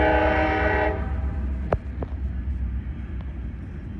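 Freight train 070913 in the Plant City, Florida area rumbles near and loud for about a second, then a sharp horn-like blast sounds, followed by fainter clanks and a steady low rail rumble.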